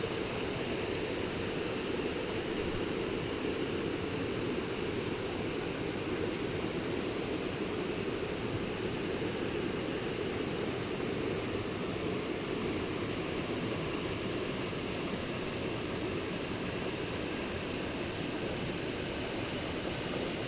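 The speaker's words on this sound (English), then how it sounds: "Just a beautiful creek." The Little River, a small mountain creek on the Elkmont trail, runs in a steady, unbroken rush of flowing water, an even broadband wash heard alone with no voices.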